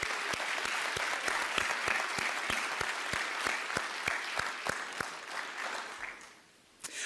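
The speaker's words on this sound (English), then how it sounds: "Let's give them a round of applause too" A large crowd claps steadily at a Dickinson State University fall commencement ceremony, an even wash of applause that tapers off near the end.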